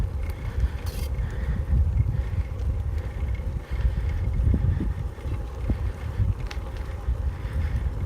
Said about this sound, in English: the noise that the whole bike makes